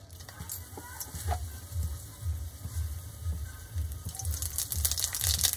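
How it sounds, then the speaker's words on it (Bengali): Two dry red chillies and a spoonful of panch phoron hit hot mustard oil while a Bengali kul (jujube) pickle is cooked, giving a steady, moderate sizzle that runs continuously with faint stirring clicks. "এবার আমি ওই গরম তেলের মধ্যে দিয়ে দিচ্ছি 2টো শুকনো লঙ্কা আর 1 চামচ 5 ফোড়ন।"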